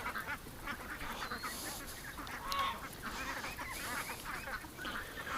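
Ducks near a swamp give repeated honking, quacking calls at moderate distance, overlapping in irregular bursts over a constant outdoor background.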